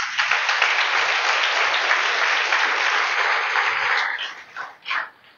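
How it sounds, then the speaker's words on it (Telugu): An audience in a church training session bursts into loud sustained clapping that holds steady for about four seconds, then trails off in a few scattered final claps. "ఒకసారి క్లాప్స్ ఇస్తారా?"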